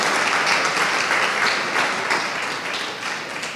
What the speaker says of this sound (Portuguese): Vamos aplaudir o Senhor Jesus bem forte.